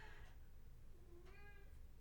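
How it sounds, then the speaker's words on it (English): A house cat gives two short meows with a pause between them, faint against a steady background hum. "Probably hear my cat."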